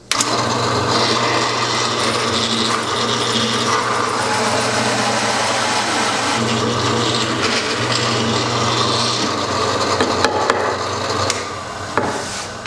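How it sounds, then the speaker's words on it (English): Drill press boring through wood with a hole saw, a steady loud grinding whir with rubbing, scraping cutting noise that runs for several seconds, with a few knocks near the end as it finishes. "let's go to the drill press and see how this works"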